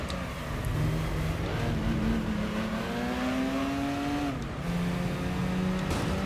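Race car engines in the video game Gran Turismo 3, including a Mazda MX-5 and an MR2: a continuous revving whine climbing through gears, with a brief drop and shift near the end, steady and moderately loud.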